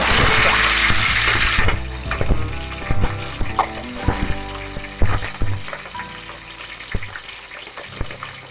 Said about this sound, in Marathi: आता टाकते बघा जिरं